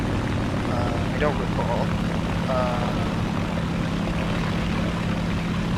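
A captured Japanese Ki-43-II propeller fighter drones in War Thunder, a steady low engine hum running throughout beneath a man's speech.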